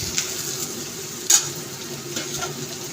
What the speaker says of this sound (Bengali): তো দেখুন পেঁয়াজগুলোটা ভাজা হয়েছে নাকি, সেই যে অনেকটাই ভাজা হয়ে গেছে